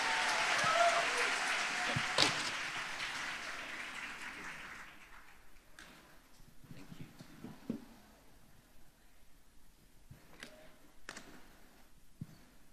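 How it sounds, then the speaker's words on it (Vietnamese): A church congregation stands and applauds loudly for a visiting interpreting pastor, a dense wash of clapping that fills the first five seconds before thinning into scattered claps and a few sharp knocks. "đứng lên, vỗ tay lớn tiếng quý vị."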